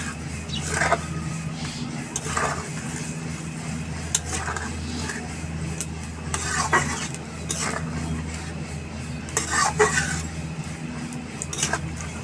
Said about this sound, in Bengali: এবারে ভালো করে আমি নেড়ে দেবো এটাকে।